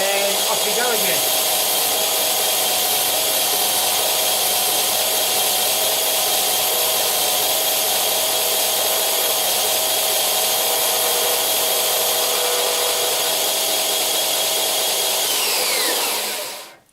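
A power sander runs steadily on wooden toy wheels, a continuous loud whirring grind with a sustained tone that holds for about sixteen seconds before winding down at the end.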